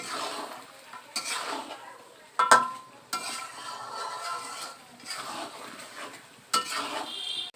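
Chicken with turmeric and spices is stirred and fried in a pan, with repeated scraping and clinking of a spatula against metal in irregular bursts over a faint sizzle, fairly close and moderately quiet.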